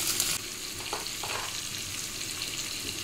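Garlic paste, onion and tomato fry in oil for a Bengali home-cooked curry, giving a steady close sizzle that runs the whole time with a few soft stirring scrapes and no talking.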